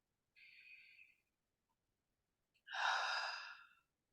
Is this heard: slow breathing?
yes